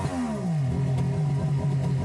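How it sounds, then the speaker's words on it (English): A 2003 Yamaha GP1300R jet ski fitted with a Riva free flow exhaust runs out of the water on a hose supply, its engine steady and loud with a low droning tone that dips slightly early on, alone without talk. "the ski running on the water hose so you can hear how the free flow exhaust sounds installed on the ski"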